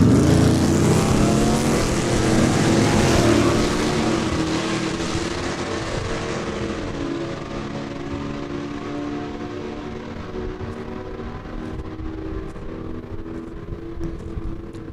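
Drag race cars launch at Saskatchewan International Raceway in Saskatoon with a loud, dense engine roar. It gradually fades into the distance over about fifteen seconds as they pull away down the strip.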